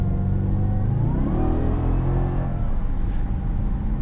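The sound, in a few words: 2009 supercharged Dodge Challenger SRT-8 V8 engine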